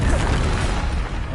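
A Confringo spell explosion in Hogwarts Legacy bursts as a loud, deep, rumbling blast that fills the whole short moment with a heavy low-end roar.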